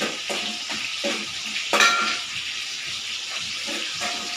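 Onions frying in a pan as the start of a chicken curry, a steady close sizzle with a few soft stirring scrapes and knocks, no talking.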